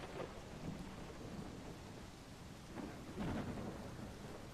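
Thunder rumbles during a storm over steady falling rain, with a couple of low rolling booms rising from the constant wash, fairly distant and soft.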